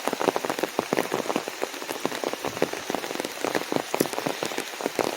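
Rain patters steadily on an umbrella along the Appalachian Trail in Virginia, a dense continuous drumming of close drops with no voices.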